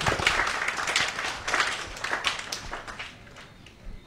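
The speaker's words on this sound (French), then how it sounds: "On peut les applaudir encore une fois" A small crowd at a tribute to Haiti's president Jovenel Moïse in French Guiana claps, scattered and fairly faint, thinning out toward the end.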